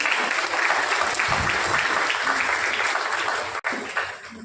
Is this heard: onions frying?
no